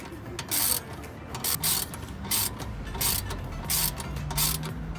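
A ratchet wrench with a 19 mm socket tightens a bolt on the rear shock of a Nissan Altima, giving repeated bursts of dry, rasping clicks in a steady back-and-forth rhythm, close up.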